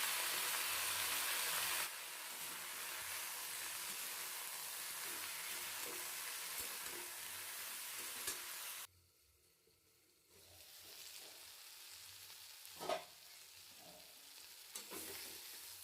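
Spiced kochur loti (taro stolons) with shrimp, seasoned with salt and turmeric, frying in a pan: a steady broadband sizzle with stirring scrapes, which drops to a quieter simmer partway through and is broken by a few sharp clinks.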